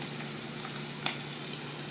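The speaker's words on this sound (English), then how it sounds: "see how we're boiling?" A chicken dish boils in a pot with a steady, close, hissing bubble that carries on unbroken, apart from one small clink near the middle.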